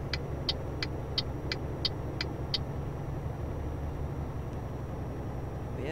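Truck driving in the game Euro Truck Simulator: a steady low engine drone and road rumble run throughout, with a series of short regular electronic beeps, like an indicator, early on and no talking.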